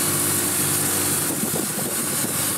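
The engine of a Wood-Mizer LT70 mobile sawmill runs steadily nearby on the Rousdon Estate, a continuous droning hum with no pauses.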